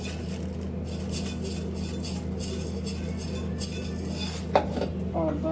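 Urad and chana dal are washed in a metal bowl, heard as close clinking and scraping of utensils against the bowl with light swishing, steady and fairly quiet, with a few sharper metallic knocks.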